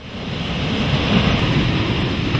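Murchison Falls on the Nile, a 43-metre waterfall, roars as a dense, continuous broadband rush of falling water, loud and steady with no other sounds.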